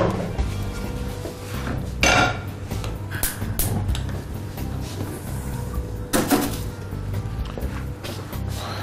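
A frying pan clatters onto a gas stove with metallic clinks and knocks, two louder bangs standing out over ongoing kitchen clatter.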